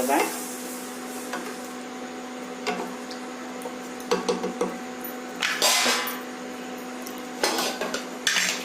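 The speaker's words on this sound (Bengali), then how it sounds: "ভালো করে মিক্স করে নেব।" A spoon stirs Bengali sweet Basanti pulao with green chilies in a pot, sending out irregular metallic clinks and scrapes over a constant low hum and faint sizzle, with the clatter growing busier toward the end.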